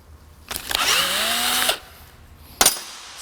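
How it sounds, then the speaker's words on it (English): A cordless drill with a dying battery, used while fitting intercooler and turbo cold-side pipes on a Ford Fairmont, whirs for about a second as its motor winds up in pitch, then stops. A second short burst follows, close and loud. "May have to give up on this drill."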